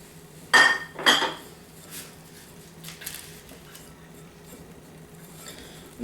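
Sugar being mixed into egg custard in a bowl, two sharp clinks of a utensil against the bowl early on, then faint soft scraping and taps in a quiet room.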